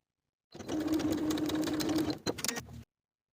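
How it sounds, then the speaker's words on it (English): A sewing machine stitches a seam in a wool jacket, a rapid even mechanical chatter lasting about two seconds, then a few short stop-start bursts before it halts, close and isolated. "We're going to sew vertically from the notches down about a 1-inch distance."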